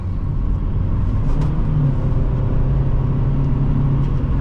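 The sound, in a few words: 2006 Toyota Matrix with stick shift driving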